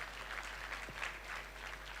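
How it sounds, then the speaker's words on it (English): Faint, steady applause from a crowd at a high school graduation ceremony, distant clapping that holds evenly throughout. "Can we give him a round of applause, please?"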